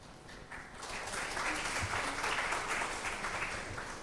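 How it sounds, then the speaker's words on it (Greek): Audience applause following a lecture on precision medicine in treating infection, a steady mid-level wash of clapping that swells after the first half second and holds evenly, with no talk over it. "Σας ευχαριστώ όλους για τα χειροκροτήματα"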